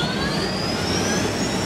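Jet aircraft engine in the video game Unturned, a steady, loud roar with a thin rising whine running across the whole short stretch, no voices over it.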